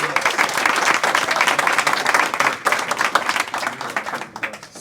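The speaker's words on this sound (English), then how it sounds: "let's give a big round of applause" An audience at a debate gives a round of applause, with dense, steady clapping from a room full of people that thins and scatters near the end.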